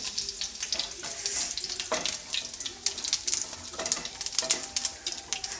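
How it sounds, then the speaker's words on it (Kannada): Mustard seeds, cumin and curry leaves sizzling and crackling in hot oil for pineapple gojju: dense, close frying hiss with scattered pops and spatters, steady and loud, with no voices. "ಇವಾಗ ನಾನು ಒಂದು ಕರ್ಬೇವನ್ನ ಹಾಕ್ಕೊಳ್ತಾ ಇದ್ದೀನಿ"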